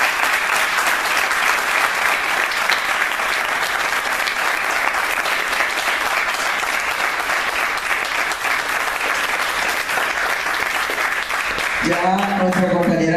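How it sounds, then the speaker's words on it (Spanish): Strong, continuous applause from the audience at an international forum on childhood and work, loud and dense throughout; near the end a voice begins speaking over the fading clapping. "que pidió un fuerte aplauso"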